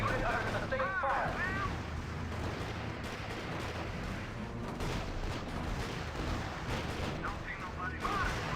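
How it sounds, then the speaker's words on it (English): Continuous rumbling artillery barrages and gunfire from the real-time strategy video game RUSE, dense and sustained throughout, with brief radio-style voice chatter near the start and end. "Unit under sustained fire."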